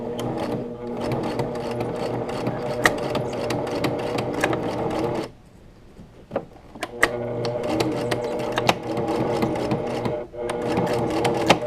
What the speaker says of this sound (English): Change your stitch to a zigzag.